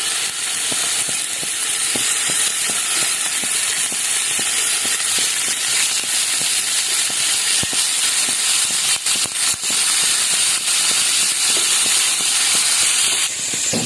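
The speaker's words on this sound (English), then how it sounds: "Now I'm going to just lower the heat and grill the prawns there." Prawns grilling in a pan over lowered heat while making Cantonese noodles: a loud, continuous sizzling hiss with crackling pops, steady throughout and close to the pan.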